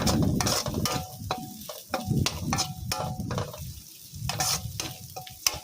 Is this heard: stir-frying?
yes